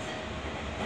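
A Seibu 6000 series subway train on the Tokyo Metro Yurakucho Line rumbles steadily along the rails with a continuous, even roar, like the inside of a moving subway car.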